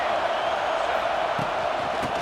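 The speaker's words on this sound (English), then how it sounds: "This crowd bringing the energy and noise early." A stadium crowd at an NCAA 26 college football game featuring the Hokies, a dense steady roar of cheering that fills the brief stretch at a constant loud level.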